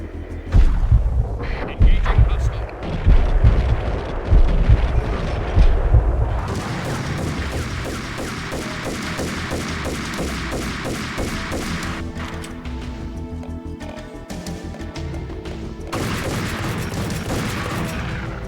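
Gunfire in the video game Max Payne: heavy bursts of shots and booms in the first seconds, then a dense continuous rattle of rapid fire and crashes, with voices talking at times.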